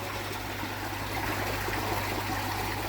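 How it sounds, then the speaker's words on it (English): A garden pond pump running steadily with water trickling and burbling, a continuous close, moderately quiet flow with a low steady hum beneath it. "the pump's in, up and running"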